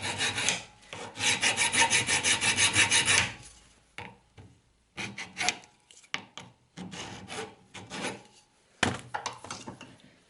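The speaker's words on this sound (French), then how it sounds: "Bon alors j'affine ma pièce à la lime." A hand file rasps across a metal front-suspension part for a Traction 11, with rhythmic back-and-forth strokes, fast and loud at first, then slower intermittent scrapes and knocks as the piece is handled.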